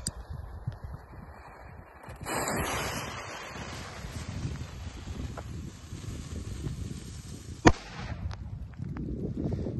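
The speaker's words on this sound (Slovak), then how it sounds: "Teraz si tu petardu Minibomb zatlačíme vlastne asi iba takto do zeme." Outdoor wind and rustling noise, then one sharp, loud bang from a small Minibomb firecracker pushed into the ground, followed by more breezy background.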